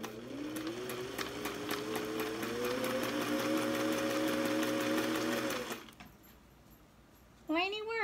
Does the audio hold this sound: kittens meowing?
no